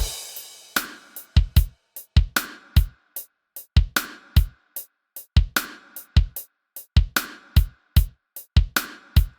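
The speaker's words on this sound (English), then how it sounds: "my drum pattern now sounds like this" A punchy, looping drum beat: hard kicks and snappy hits in a steady repeating groove, with lighter percussion layered between the main strikes.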